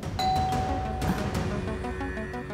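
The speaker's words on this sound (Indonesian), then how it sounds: "Itu seperti suara bel." A doorbell in a home rings in an Indian TV drama: a clear ding-dong chime sounding once, its tones lingering and fading over soft room noise.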